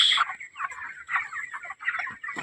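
Chickens on a poultry farm clucking in short bursts, several soft calls close by over about two seconds, fairly quiet with no talk.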